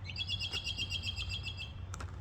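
A bird chirps repeatedly outdoors in a quick, bright, rhythmic series of tweets that carries on steadily, with a low background rumble and a couple of sharper clicks near the end.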